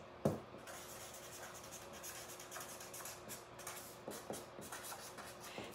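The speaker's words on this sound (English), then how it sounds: "So let me write that down." Pen writing on paper by hand at a craft table, a steady close scratching and rubbing with brief taps, alone and without talk.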